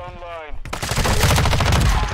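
Rapid MP5 submachine gun fire in Call of Duty: Modern Warfare II breaks in after a short tone and continues as a loud, dense burst of shots to the end.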